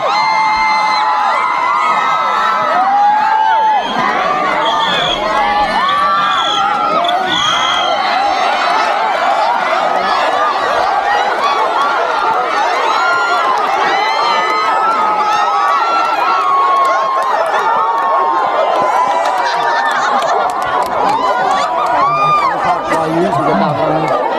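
A camp cheering squad shouting and cheering for teams at an outdoor sports day, a dense, continuous wall of many voices with children's shouts and chatter throughout, loud and close.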